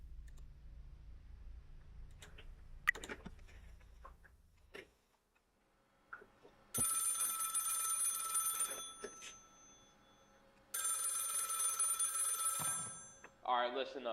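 A telephone rings in a Five Nights at Freddy's fan game, two long bright electronic ring bursts separated by a pause, following some clicks and mouse or keyboard taps at the start.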